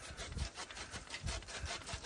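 Hand saw cutting through wood in a garden, a steady back-and-forth rasp with repeated low stroke pulses, close and continuous with no talk.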